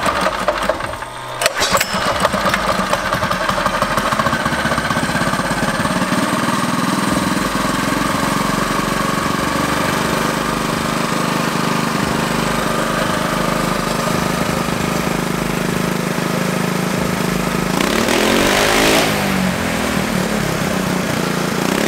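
A turbo go kart engine idles roughly up close with a steady loud drone and uneven throb, after a brief sputter near the start, then swells into a short rev before settling back.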